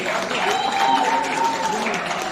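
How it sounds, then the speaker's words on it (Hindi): Audience applause at a sangeet ceremony for a couple, with steady clapping over a sustained tonal background that may be music, moderately loud and continuous throughout. "प्लीज जोरदार तालियां होनी चाहिए इन दोनों के लिए"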